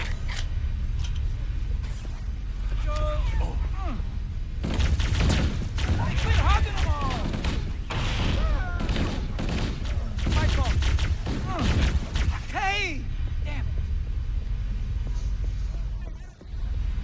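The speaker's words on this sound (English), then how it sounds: "if you rapid fire both either the plasma rifle or plasma pistol, you'll actually stun the enemy that you're shooting" Rapid plasma rifle fire from Halo: Combat Evolved comes in quick bursts of zapping energy shots over a continuous low in-game hum, with a player talking throughout.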